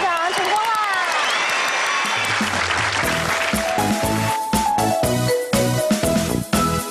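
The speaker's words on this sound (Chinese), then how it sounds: "来为自己鼓掌，成功了。" Children clap for themselves after doing a paper-cup coin magic trick, a scattered round of clapping that thins into separate claps, with cheerful music and voices running over it.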